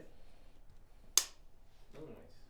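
A single sharp hand clap for camera sync in a rugby podcast studio, close and crisp with a quick decay, set in a quiet room with a brief murmur of a voice afterward.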